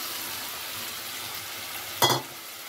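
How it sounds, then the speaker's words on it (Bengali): Duck egg and fried potato being stir-fried in spice paste for a turnip curry, a steady soft sizzle throughout with a brief louder scrape or clatter of stirring near the end, no voices. "ডিম আর আলুটা দিয়ে এবার ভালো করে আমি কষবো।"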